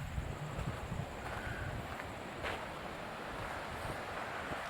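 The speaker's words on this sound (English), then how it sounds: "this is the top of the Upper Falls." Upper Falls on the Genesee River at Letchworth State Park roars as a steady broadband rush of falling water, distant and fairly faint, mixed with wind buffeting the microphone, with no voices.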